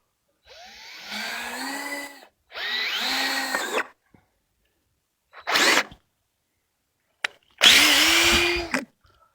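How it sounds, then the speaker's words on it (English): A power drill whines as it bores into a timber frame beam in four bursts, the motor rising and falling in pitch, with brief silences and a small click between runs. "I'm going to come back here and drill this close to my edge."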